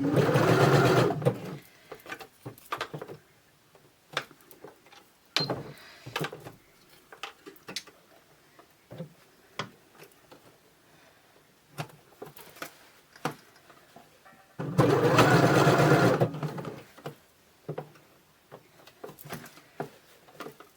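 A sewing machine stitches a zigzag stitch on fabric in two loud, rapid bursts, one at the start and one later on. Scattered clicks, taps and fabric handling noises fill the quieter stretch between them.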